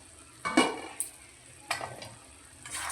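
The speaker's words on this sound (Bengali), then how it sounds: "খুব ভালো করে একবার মিশিয়ে নিচ্ছি।" A curry of bottle gourd and moong dal is stirred in a hot pan, with three or four distinct scraping strokes over a soft sizzle, close up.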